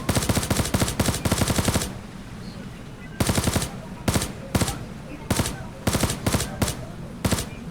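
Repeated bursts of rapid machine gun fire in the battle royale shooter Knives Out, loud and close, with a quieter gap in the middle before several short volleys resume.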